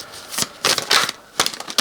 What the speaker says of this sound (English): I'm really bad at shuffling today, extra bad.